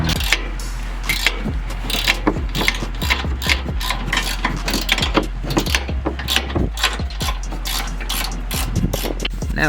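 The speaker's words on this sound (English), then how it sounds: "Now we removed the 18mm bolts from the lower shock mount, or nuts, whatever." Ratchet wrench working the lower shock mount bolts on a 2022 Ford Bronco during a coilover install, with fast repeated clicking and metallic clatter, loud and close throughout.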